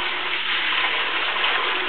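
Water swirls and sloshes inside a milking bucket during a rinse of the milking machine, a steady close rushing wash with no voices.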